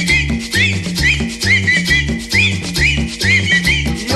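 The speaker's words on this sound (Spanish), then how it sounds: "Y ahora chiflando todo" Upbeat accordion music with a steady bouncing rhythm, and people whistling a repeating rising whistle along with it again and again.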